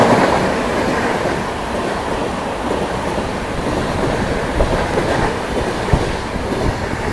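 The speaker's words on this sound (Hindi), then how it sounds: "लेकिन पिकअप ले रही है भाई शताब्दी यहाँ से।" Shatabdi Express train picking up speed while overtaking on Indian railway track, a steady loud rumble of wheels and carriages with rhythmic clickety-clack throughout, no voices.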